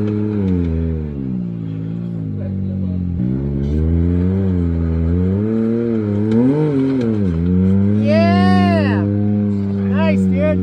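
A Yamaha Tenere 700 motorcycle climbs Hell's Gate in Moab with its engine revving steadily and rising and falling in pitch, loud and close throughout, while people talk and call out nearby.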